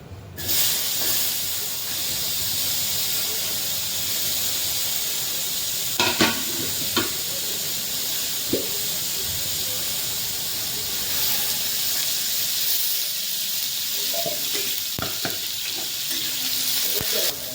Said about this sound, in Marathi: आता कांदा आणि टोमॅटो भाजून घेणार आहे